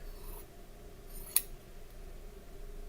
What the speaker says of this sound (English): Just cut them apart.